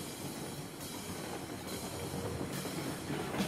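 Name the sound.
train in the video game Railroads Online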